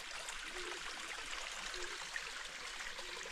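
Water flows in Brown Hill Creek as a faint, steady babble and trickle from a small stream, continuous and soft, heard from a little distance.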